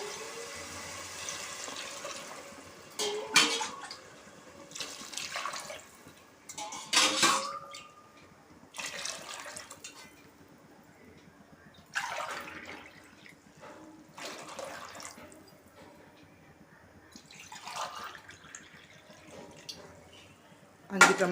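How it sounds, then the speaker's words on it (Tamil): Five tumblers of water are poured one after another onto rice and lentils in a pot, each pour a splashing gush followed by a pause, repeated several times at close range, with no talking. "அதுக்கு 5 டம்ளர் தண்ணி ஊற்றிக்கலாம்."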